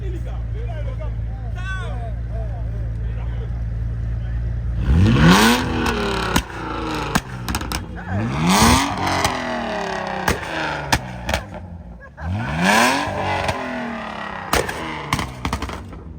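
Sports cars including a McLaren 720S, 570, Audi RS6 and BMW models rev hard in bursts, each rising whine and crackle sweeping up sharply and fading, loud and nearby, with people talking excitedly in between.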